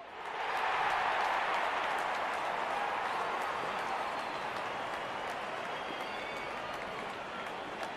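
A stadium crowd in the Real Cricket 22 video game cheers as the opening batsmen walk out, giving a broad, sustained roar with applause that swells early and then holds steady, slowly fading a little.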